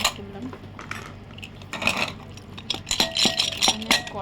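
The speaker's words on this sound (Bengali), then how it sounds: "এবার আমি ঢাকনাটা খুলবো" Metal pot lid lifted off a pot of mutton curry, with a few clanks and clinks of metal cookware, sharper scraping and rattling toward the end, fairly close.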